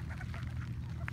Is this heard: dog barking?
no